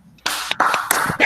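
Several hand claps ring out on a live academic event stream for a law course, a handful of sharp, close, uneven claps at irregular intervals rather than a full crowd.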